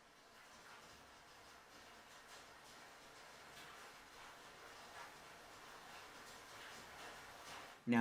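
Rain muffled by room reverb, as if heard through a wall from another room, makes a faint, dull, steady wash with a small bump right at the end.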